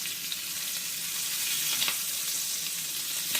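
Large Gulf shrimp fry in a pan until golden: a steady, close, continuous sizzle and crackle with a few sharper pops scattered through, and no talking.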